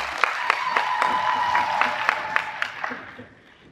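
A small crowd at a political rally in Dodoma, Tanzania claps together in a rhythmic, evenly spaced beat that fades out toward the end, fairly close and moderately loud.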